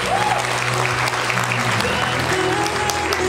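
Wedding guests applaud at a reception as a speaker is invited to the stage, with dense, steady clapping from a crowd filling the room throughout, beneath a low hum of voices.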